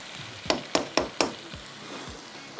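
Beef pulao frying in a pot while a spoon stirs it, with four quick metallic clinks of the spoon against the pan over a steady soft sizzle.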